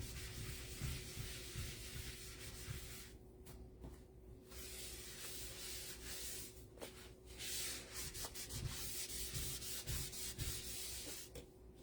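A board eraser scrubs back and forth over a silkscreen-stenciled sign, giving a soft, close, continuous rubbing hiss with brief pauses between strokes and no talking.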